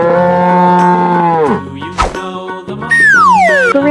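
A cartoon cow in a colorful animal painting game lets out a loud, close moo with a strong steady tone, followed by short boings and a long falling cartoon sound effect.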